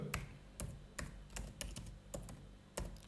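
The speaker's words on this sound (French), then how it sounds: "Je vais donc taper rédaction web." Keywords typed on a computer keyboard, a series of soft, irregular key taps with short gaps between them in a quiet room.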